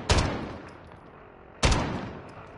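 Two sharp gunshots from a video game firearm ring out about a second and a half apart, each a loud crack followed by a short decaying echo, with no talk over them.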